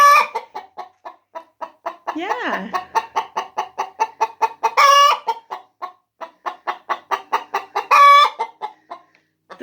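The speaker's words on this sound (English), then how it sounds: "The hens do typically do this after they lay the eggs" An Isa Brown hen clucks loudly and rhythmically in a rapid repeated series after laying an egg, broken by a couple of drawn-out squawks; a brief voice is heard.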